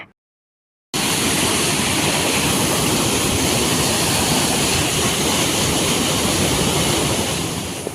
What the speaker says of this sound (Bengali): এখানে মন্দাকিনী প্রচণ্ড বেগে বয়ে চলেছে